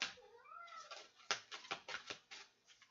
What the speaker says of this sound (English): You hear the cat? She said, meow.